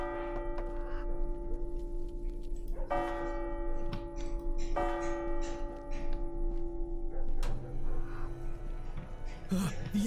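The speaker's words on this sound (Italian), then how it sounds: "La campana dell'inizio." A starting bell rings in a dark video game, deep resonant strikes tolling a few times at intervals with a long ringing decay over low ambient noise.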